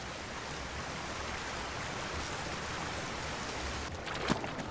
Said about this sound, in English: but now the autumn rains have really picked up